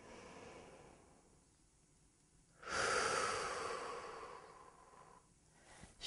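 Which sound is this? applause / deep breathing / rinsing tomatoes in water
deep breathing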